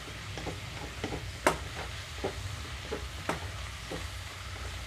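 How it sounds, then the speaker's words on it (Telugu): Amaranth leaves with chana dal sizzle steadily in a pan, broken by several sharp scrapes and taps as a spatula stirs them. "రెండు నిమిషాల పాటు ఇలాగే వేయించుకుంటున్నాను"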